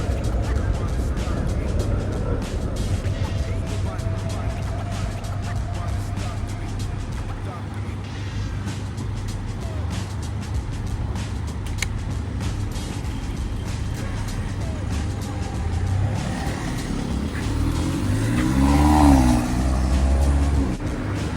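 Road traffic heard while commuting by bike near a collision that has slowed cars, a steady low rumble of engines and passing vehicles under someone talking, with a louder vehicle swelling near the end.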